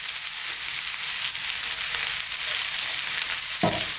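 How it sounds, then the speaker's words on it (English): Vegetables stir frying in a wok on maximum heat, a steady loud sizzle with soft scraping from constant stirring and one brief knock near the end. "on this maximum heat, let's go just for about another 3 minutes, stirring all the time"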